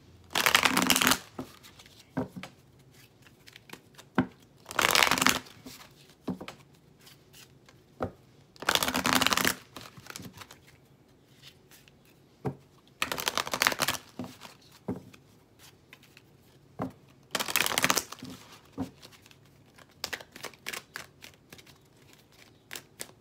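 Oracle cards shuffled in several separate bursts of crisp riffling, each a second or two long, with short quiet gaps between them.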